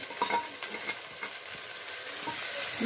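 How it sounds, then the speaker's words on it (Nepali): Onions sizzling steadily in a hot pan for a meat curry, with light stirring scrapes breaking through the constant frying hiss, close and alone without voices. "प्याज एकछिन रातो हुँदैछ मासु फ्राई गर्नको लागि"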